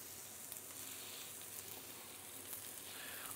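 Food sizzles faintly in a pan with melted butter, seasoned with salt and pepper, as a steady, soft crackling hiss with no talk.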